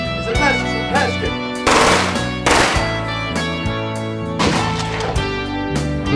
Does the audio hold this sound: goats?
no